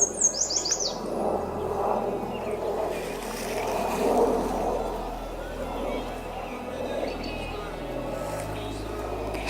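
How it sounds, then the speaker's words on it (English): Birds chirp and call by a lakeside in Colorado, with a quick burst of high tweets at first and then sparse, distant calls beneath low rumbling outdoor background sound. "Can you guys hear the birds?"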